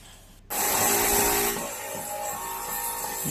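Palm tree branches are cut and trimmed on a home building site, a loud, continuous rasping saw-like noise that starts abruptly and runs steadily nearby.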